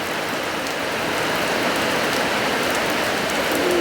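Heavy rain pours steadily during a storm, a dense, even hiss of drops hitting surfaces close by, constant and unbroken with no speech.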